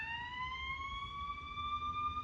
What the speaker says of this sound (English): every time I do this, an alarm, siren comes.